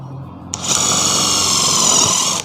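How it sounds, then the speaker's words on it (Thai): A DeWalt DCF801 cordless impact screwdriver drives a small self-drilling screw, starting abruptly into a loud, sustained high-pitched whirring rattle that holds steady for about two seconds, close up with no talk. "เข้าง่ายมากเลยนะครับสกูปลายสว่านนะครับ"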